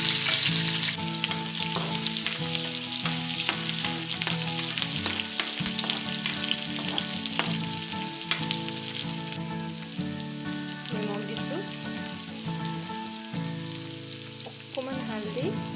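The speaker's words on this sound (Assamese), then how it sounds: "এতিয়া মই ইয়াত পিঁয়াজ দিম" Onions frying in hot oil in a wok (kadai), a steady loud sizzle running throughout with some stirring clatter, with no voices.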